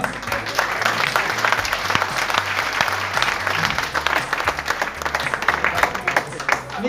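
A seminar audience breaks into sustained applause, many hands clapping in a loud, continuous wash, with a voice speaking over it.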